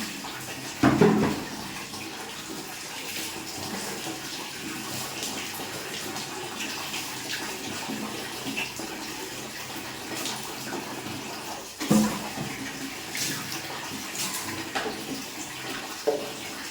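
Water poured during a cold morning bath with a gamchha towel, a steady wash of splashing water running throughout with a few louder splashes near the start and again toward the end.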